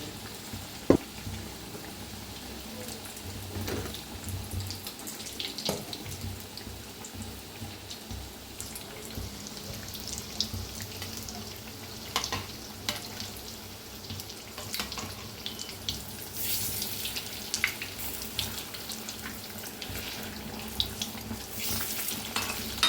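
Bread pakoras deep-frying in hot oil in a home kitchen, a steady close crackling sizzle with watery bubbling that runs the whole time, brighter bursts of spatter toward the end, no voices.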